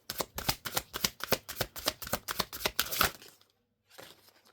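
Tarot cards shuffled in quick rhythmic riffles, about a dozen crisp bursts close up over three seconds, then a pause and a soft final shuffle.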